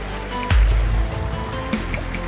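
Icy creek water rushing over big cobbles and boulders near a gold-prospecting sluice, a steady close wash of flowing water with a brief heavier splash early on.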